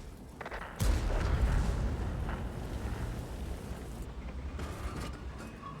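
A tank shell strikes armor and deflects in a video game, landing as a heavy, close metallic impact that leaves a lingering rumble and grinding creaks.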